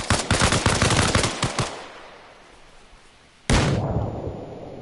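Video game gunfire rattles in a rapid dense burst, trails off into quiet, then a sudden loud grenade explosion hits and rumbles away.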